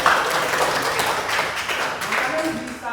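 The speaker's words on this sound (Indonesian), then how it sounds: "Tepuk tangan untuk temannya dulu." Classroom applause for a student during a lesson, a short burst of children clapping with some voices mixed in, fairly close and lively.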